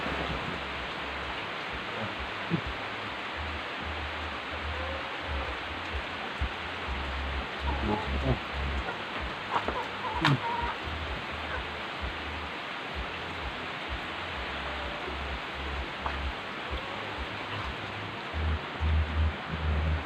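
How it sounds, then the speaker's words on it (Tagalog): Heavy rain pours during a low-pressure spell, a dense, steady close-up hiss that holds with little change the whole way through. "Grabing ulan guys"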